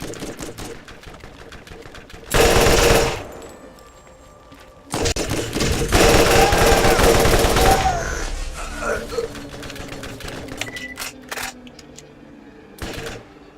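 Gunfire in the video game Borderlands comes as loud bursts of rapid shots, with a short volley, a pause and then a longer sustained barrage, followed by scattered clicks and mechanical noises.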